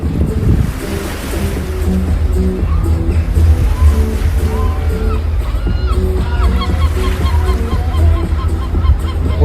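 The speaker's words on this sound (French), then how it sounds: "la mouette est d'accord. Elle a dit ouin, ouin, ouin." A seagull on the North Sea coast gives repeated nasal calls over steady surf and wind, fairly close and loud, with no speech.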